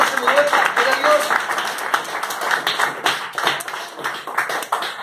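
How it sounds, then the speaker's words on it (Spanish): A church congregation applauding, dense fast clapping from many hands throughout, mixed with a voice speaking over it. "Den un aplauso al Rey."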